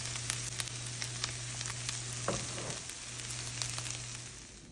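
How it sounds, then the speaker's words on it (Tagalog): Corned beef mixed with egg frying in a little oil, a steady close sizzle with crisp crackles and one brief scrape of stirring midway, continuous and without talking. "Ngayon ako ang corned beef nga gibutangan og egg."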